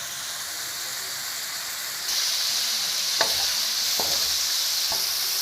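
Offal stir-fried with Thai holy basil in a pan: a loud, continuous sizzle that swells partway through, broken by three brief spatula scrapes against the pan.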